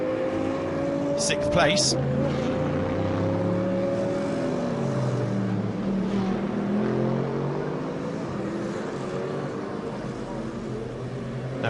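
Mercedes GT race car in the Pro-Am Cup at the Spa 24 Hours endurance race, 2011, its engine droning steadily with shifting pitch throughout while a commentator talks over it.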